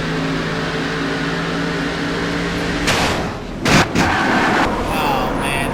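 Car crash in NASCAR Racing 2003, a race car engine droning steadily before sharp broadband impacts and crunches hit near the end, loud and close, with a commentator talking over it.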